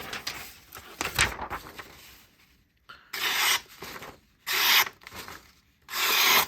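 A thick-stock pocket knife with a thin hollow grind cuts through material, giving rough rasping strokes that sound like tearing, with several distinct bursts separated by short pauses, close and without speech.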